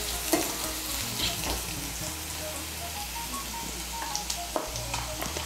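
Onions fried until red sizzling in oil with cumin, ginger, black pepper and green chilli pastes, a dense, steady crackle like light rain, with a few faint stirring clicks.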